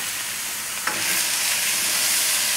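Garlic and onion sautéing in a pan for onion spinach soup, a steady broad sizzle that jumps louder as food hits the hot surface, then keeps up a close, even frying hiss.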